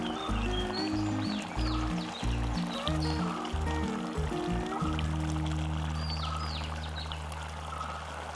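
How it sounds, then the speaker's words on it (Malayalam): Coconut oil poured into a simmering fish curry, a steady liquid stream with continuous bubbling and low rumbling tones, no talk. "ലേശം വെളിച്ചെണ്ണ ഒഴിച്ചിട്ട് വാങ്ങി വെക്കാം"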